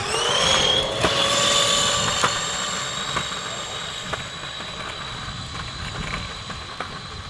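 Macwheel E9 Pro and Razor electric scooters race along an outdoor trail, their motors giving a loud, steady whine with sustained tones that drift slightly and slowly fade as they pull away.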